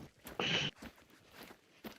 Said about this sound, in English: Just your footsteps in the sand.